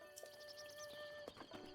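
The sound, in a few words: horse hooves from the video game Zelda: Breath of the Wild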